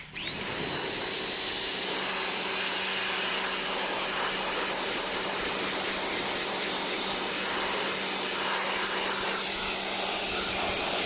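Pressurized water spray washing a removed car air conditioner evaporator from a 2014 Nissan Juke, a loud, steady, hissing rush that runs without pause from start to finish.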